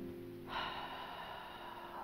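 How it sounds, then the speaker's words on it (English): A deep, audible inhale during a guided meditation, a soft breathy rush that starts about halfway through and holds steady against a quiet background, with no talking. "With the collective deep inhale"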